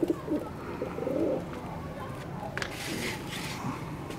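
A prize-winning Indian flying pigeon coos nearby in low, throaty burbles over a soft background hum.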